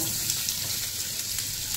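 Dried mango pieces, cut, washed and coated with salt and turmeric, fry in mustard oil in a wok after five-spice tempering, giving a steady, even sizzle that runs unbroken throughout.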